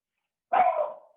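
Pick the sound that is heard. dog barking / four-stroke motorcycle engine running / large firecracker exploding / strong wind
dog barking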